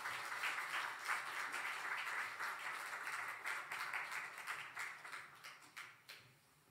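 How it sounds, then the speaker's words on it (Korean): A church congregation gives warm applause, a steady wash of many hands clapping at moderate distance that gradually thins and fades out. "우리 따뜻한 박수로 맞이해 주시면 좋겠습니다."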